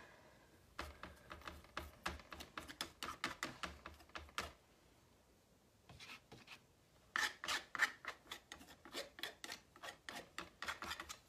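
Heavy-bodied acrylic paint being scraped onto paper for a mixed media heart craft, a rapid run of rhythmic rasping strokes, a pause, then another fast series of scrapes, close and fairly quiet.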